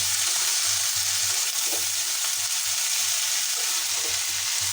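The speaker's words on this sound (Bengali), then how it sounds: "ভাজতে থাকি।" Vegetables with broccoli, green chilies, garlic, onion, potato and beans fry in a pan, a loud, steady close sizzle throughout with faint stirring scrapes underneath.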